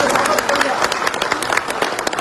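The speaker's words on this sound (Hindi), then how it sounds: "करताली" Loud, dense applause from a large audience at a political rally, steady rapid clapping filling the whole moment.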